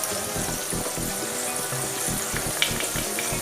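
Coriander powder hits hot oil in a pan and crackles into a busy, close sizzle with bursts of popping and scraping, steady and loud the whole way through.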